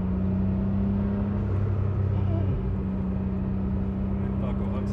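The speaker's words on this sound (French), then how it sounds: "Oh, le bruit du turbo, c'est incroyable." A Nissan GTR R34 idling with its twin turbos, a steady loud engine drone with a low hum and a brief rising whine midway, close by, with someone talking over it.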